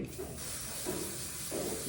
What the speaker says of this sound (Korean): 그리고 이제 스프레이를 뿌릴 건데